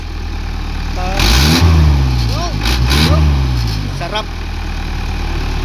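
A mid-sized engine, just repaired, revs loudly in several rising bursts and drops back to a steady idle between them, heard up close while people talk over it.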